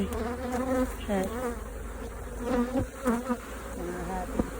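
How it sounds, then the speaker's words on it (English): A bee buzzing close around the head of a beekeeper in a hot bee suit near an active hive, its wavering drone rising and falling in pitch as it circles. "does it see this bee flying around my head?"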